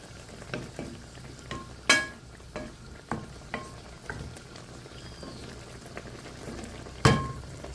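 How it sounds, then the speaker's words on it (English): Quiet bubbling and simmering of curry chicken with string beans in a pot, with scattered soft pops and a couple of sharper clinks of a lid or utensil. "It's bubbling, it's bubbling."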